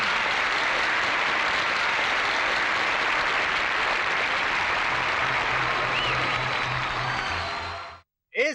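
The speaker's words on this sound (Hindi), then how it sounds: "एक बार फिर तालियों के साथ उनका स्वागत कीजिए।" Steady, dense applause from an audience welcoming a guest to a school award ceremony, loud and continuous for about eight seconds before cutting off abruptly, with a brief voice at the very end.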